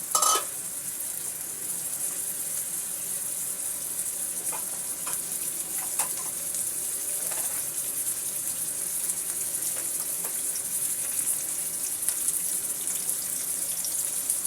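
Chopped onion sizzling in a small amount of oil for a Rui fish head muri ghonto, a steady, close hiss lasting throughout with a few faint clinks of utensils, no talking.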